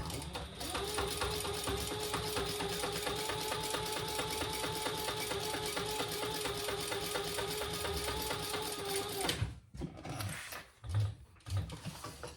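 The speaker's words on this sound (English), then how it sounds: "we're gonna top stitch on this back center piece" A sewing machine top stitches the back centre piece of a fabric train case, running in a fast, even mechanical chatter for about nine seconds before stopping, followed by a few handling clunks.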